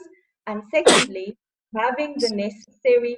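A single sharp sneeze bursts out mid-sentence during a business risk management discussion, loud and close, with someone talking steadily before and after it.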